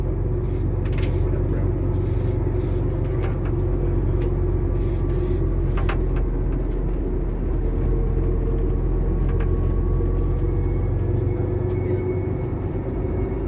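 Rail cars rolling down the hump of a rail yard give off thin, faint intermittent squeals over a constant low rumble of rolling stock, heard from a distance.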